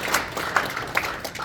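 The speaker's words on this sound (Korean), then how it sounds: "박수 한번 쳐주세요." An audience at a Korean association's annual general meeting applauds in a short, moderate burst of scattered clapping from a crowd indoors.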